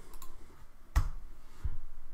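A single sharp key click, like the enter key being pressed on a computer keyboard, lands near the middle of a quiet room, followed by a softer thump a moment later.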